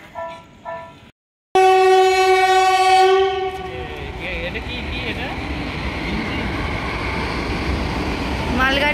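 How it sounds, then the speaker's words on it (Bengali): A goods train rolls past close by, opening with a long loud multi-tone horn blast that settles into steady rumbling and clattering of freight wagons, with brief talk heard before the horn. "এটা কি ট্রেন যাচ্ছে বাবা? হ্যাঁ গুডস ট্রেন"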